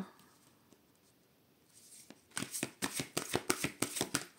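An oracle card deck is cut and then shuffled close by: after a quiet start, a rapid series of about a dozen crisp riffling snaps and card slaps.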